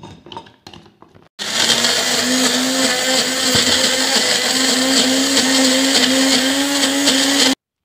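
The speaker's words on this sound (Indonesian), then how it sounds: "Jika belum halus, bisa ditambahkan air lagi untuk di blender." A kitchen blender whirs loudly as it purées a yellow spice paste made with oil and water, switching on abruptly after a few light clatters and running steadily for about six seconds before cutting off.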